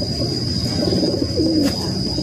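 Pigeons coo softly in a loft, low throaty calls rising and falling against a steady background hum and a faint high electronic whine, with no voices.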